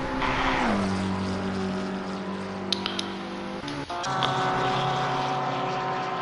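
Race car engines in Assetto Corsa Competizione multiclass racing with Porsches chasing a BMW: loud, close engine drone with rising and falling pitch as cars pass, a brief gear-shift dip midway, then sustained revving.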